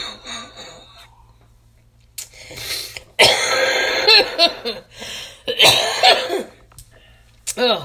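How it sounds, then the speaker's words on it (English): A woman coughs hard in a series of loud, harsh bursts, a coughing fit broken by short pauses and throat clearing while tasting Jarritos sodas. "It's not the most ladylike thing to be on here coughing like crazy, coughing up a lung."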